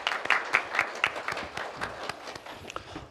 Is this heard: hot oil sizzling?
no